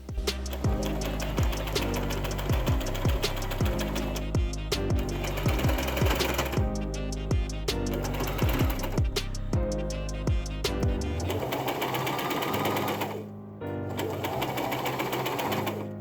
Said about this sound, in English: I'm gonna see if I can do a little zigzag there or not